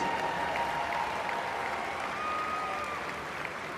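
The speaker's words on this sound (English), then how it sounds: "That is worthy of applause." An audience at a Nebraska association event applauds steadily, a dense wash of clapping that stays even and continuous throughout with no voices over it.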